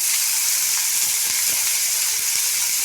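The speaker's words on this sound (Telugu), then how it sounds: "ఆయిల్ హీట్ అయింది. ఎర్రగడ్డలు వేసుకున్నాం. అలాగే పచ్చిమిరపకాయలు వేసుకున్నాం." Chopped onions and green chilies frying in hot oil give a loud, steady, close-up sizzle that hisses on without pause and with no voices.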